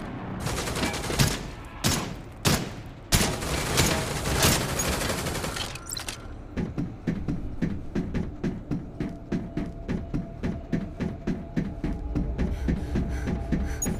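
Gunfire in the mobile action game Project: Arrival: a burst of loud, heavy shots and booms gives way to a steady, rapid rhythmic stream of automatic fire.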